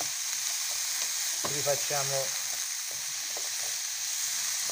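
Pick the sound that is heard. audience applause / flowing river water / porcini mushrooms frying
porcini mushrooms frying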